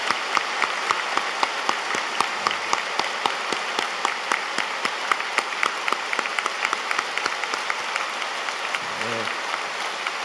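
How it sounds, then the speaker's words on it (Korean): Warm applause from a large church congregation fills the room, steady and sustained with sharp individual claps throughout, fading slightly toward the end. "일어나실 때 뜨거운 박수로 우리 목사님 모셨습니다"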